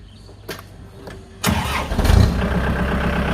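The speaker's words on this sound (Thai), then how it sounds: "เดี๋ยวเราลองมาสตาร์ทฟังเสียงเครื่องยนต์กันดูนะครับ" A Kubota L4708 tractor's diesel engine cranks briefly, then catches and roars to life, settling into a loud rumbling run close by through an aftermarket loud exhaust.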